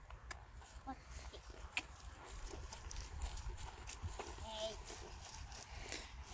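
A horse trotting during a riding lesson, its hooves giving a faint, steady clip-clop in a noisy open setting as an instructor talks over the rhythm.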